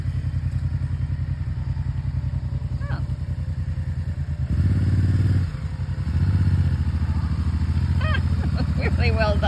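A motorbike engine runs steadily and close, its rumble rising in a second surge partway through, with clattering and thumping on a road trip along the Blue Ridge Parkway.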